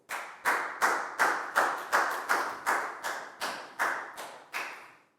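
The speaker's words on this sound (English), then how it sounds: "High five and a big round of applause for Nadia." Classroom applause for a student in a Year 4 maths lesson: about a dozen loud, evenly spaced bursts of hands clapping in unison, close and rhythmic.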